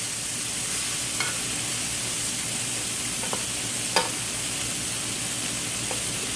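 Peppers and onions frying in a pan for a Philly cheesesteak bowl, a steady close sizzle throughout with a few faint clicks of a utensil against the pan and no talk.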